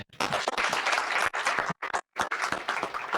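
Conference audience applauding a panel on lending in Kenya and Africa, a loud, dense round of clapping broken by a couple of short gaps before resuming.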